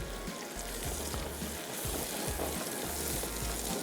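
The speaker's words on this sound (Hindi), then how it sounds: "1 से 2 मिनट तक करना है फ्राई" Tomatoes fry with spices in a handi, giving a steady close sizzle with soft stirring scrapes at intervals and no voices.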